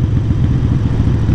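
A Harley Iron 883 motorcycle's engine rumbles loud and close in a steady low roar, with a rapid pulsing beat that holds for a moment without any pause.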